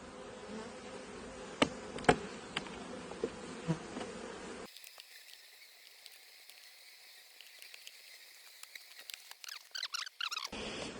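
Low, steady buzzing of many honeybees close by around a hive frame and queen cage, with a few faint knocks early on and scattered louder bursts toward the end.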